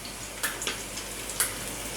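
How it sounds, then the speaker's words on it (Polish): Mushroom and egg patties fry in a pan with a faint continuous sizzle, broken by a few brief sharp crackles and spits of hot oil. "Tu już mam ładnie, się ładnie smażą i następne dokładam do smażenia"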